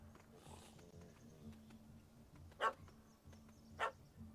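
A dog barks in the Witcher 3 video game, two sharp separate barks a little over a second apart over a low game ambience hum.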